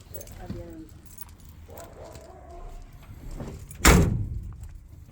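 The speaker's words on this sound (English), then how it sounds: "Door's shut good." Faint clinks and quiet voices come before the door of a 1967 Chevrolet Suburban is shut with one sharp, solid slam near the end, followed by a short fading ring.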